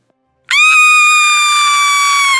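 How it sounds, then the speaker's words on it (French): A girl screams loudly in one sustained, piercing, shrill cry that bursts out of silence and holds for about two seconds. "Et elle crie fort."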